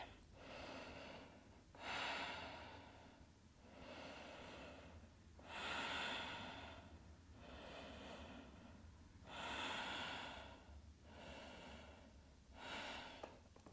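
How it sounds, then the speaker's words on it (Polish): Slow, deep yoga breathing during a vinyasa flow practice, about seven long airy inhales and exhales in a steady rhythm, heard close and fairly quiet with no talking. "Trzy oddechy."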